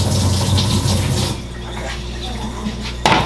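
Tap water runs steadily into a kitchen sink while raw chicken is cleaned with limes, a loud continuous rushing splash that softens midway and ends with a short sharp knock.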